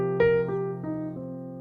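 A jazz arpeggio in eighth notes rises and then falls: four clear, evenly spaced melodic notes ring out over a steady sustained low tone, each note decaying into the next.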